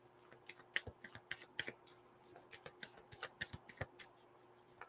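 Moonology Oracle cards being shuffled by hand: a quiet, close run of crisp flicks and riffling snaps in an irregular rhythm, with no voices.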